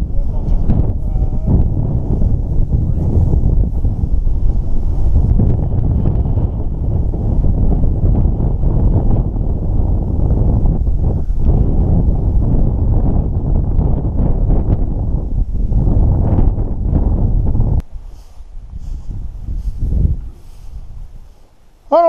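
Strong wind batters the microphone in an open Nebraska field during a quail and pheasant hunt, a loud continuous roar that drops away sharply in the last few seconds.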